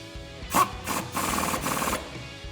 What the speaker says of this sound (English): Grab an 18 socket and tighten this down.